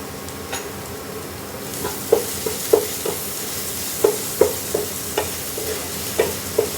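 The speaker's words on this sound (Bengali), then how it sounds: "আলুটা ভাজা হয়ে এসেছে।" Potatoes frying with salt and a little turmeric sizzle steadily in a pan, broken by a series of sharp scraping stirs from a spatula that come every half second or so. No one speaks.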